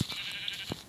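A Minecraft sheep bleats in a short, nasal cry, heard twice in under a second, fairly close and with no talk over it.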